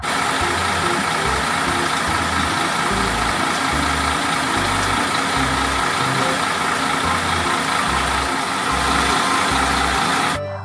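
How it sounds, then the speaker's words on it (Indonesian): A concrete mixer truck engine idles steadily with a low rhythmic throb, a constant loud rumble close by with no talk. "Yang ini ada mobil truk molen ya."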